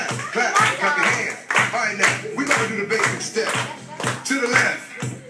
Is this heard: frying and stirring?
no